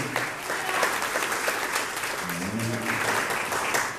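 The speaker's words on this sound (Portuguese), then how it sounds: "Quem pode aplaudir o Senhor Jesus por essa palavra?" Steady applause from a large church congregation, continuous clapping throughout with a faint murmur of voices underneath.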